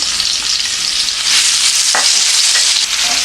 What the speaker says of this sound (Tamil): நெய் காஞ்சதுக்கப்புறம் அந்த பூண்டை நம்ம நெய் கூட போட்டு வணக்க போகிறோம்